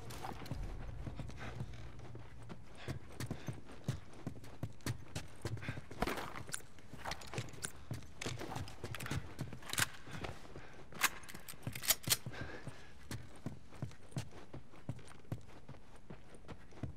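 Horse hooves clip-clop in The Last of Us near a hydroelectric dam, a faint, steady walking rhythm of hoof strikes throughout, with a few sharper, louder hits midway and soft background game ambience.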